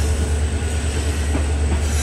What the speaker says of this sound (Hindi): देख सकते आप सामने से एक तो एक गाड़ी आई है, ये अकोला जानी है